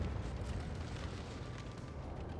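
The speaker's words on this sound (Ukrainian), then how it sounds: "вибух боєукладки" A deep, rumbling ammo rack explosion of a tank in World of Tanks Blitz roars continuously, muffled and distant, with a broad crackling wash that barely fades.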